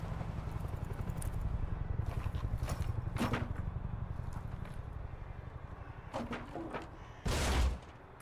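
Several sharp knocks and clattering thuds of wood being thrown land at irregular intervals over a steady low rumble of game background noise.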